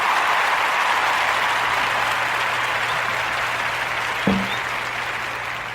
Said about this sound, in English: Round of applause for Rondo, man.